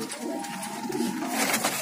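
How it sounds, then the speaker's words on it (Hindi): A pigeon at a Delhi pigeon market gives soft, low cooing close by, heard against busy background noise and faint voices. "ये कबूतर है।"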